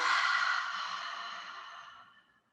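A single long open-mouth exhale during yoga breathing, a soft breathy whoosh that starts strong and fades gradually over about two and a half seconds, close and alone.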